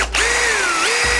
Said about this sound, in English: I'll throw that in my drill chuck.